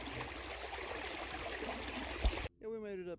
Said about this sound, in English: We got some water flowing now.